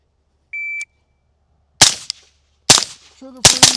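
Rifle shots ring out during target shooting through an Arken EP-8 LPVO scope, three sharp loud cracks with short echoing tails spaced over a few seconds, preceded by a brief electronic beep.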